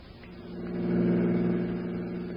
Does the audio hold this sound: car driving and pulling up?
yes